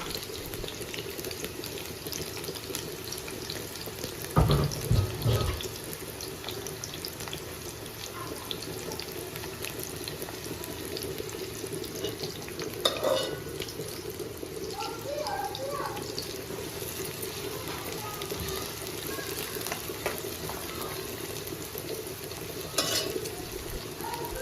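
Onions and green chillies fry in oil in a pan for a prawns fry, giving a steady close sizzle with occasional stirring scrapes and a brief clatter partway through.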